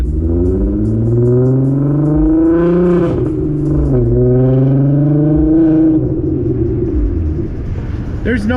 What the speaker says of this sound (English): There's no way to drive this car quiet.